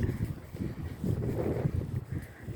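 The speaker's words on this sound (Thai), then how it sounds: "ลมปะทะตึก วนลงมา" Wind gusting against and swirling down around a building: a low, buffeting rumble that rises and falls in uneven gusts over a couple of seconds, with no talking.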